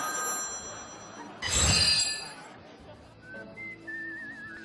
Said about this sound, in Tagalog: Yung telepono na naman po.